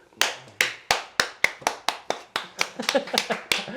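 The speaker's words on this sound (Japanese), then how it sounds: "なんで拍手が来るんですか？" Quick rhythmic hand claps, about a dozen sharp close claps speeding up slightly, like a short burst of applause from a person or two.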